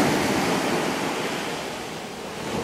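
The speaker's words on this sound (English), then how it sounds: "that's why you're seeing these waves rolling up, just coming in, because it's a shallow" Waves rolling in over a shallow shore near a forest on the Sitka coast, a continuous broad wash of surf with wind noise on the microphone, fairly faint and without voices.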